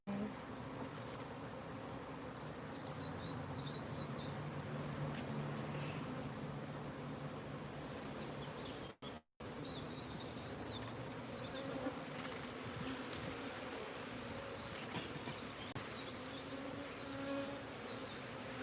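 Honey bees swarming around an open hive during hive maintenance, a dense steady buzz close by that continues almost unbroken, with a brief drop-out partway through.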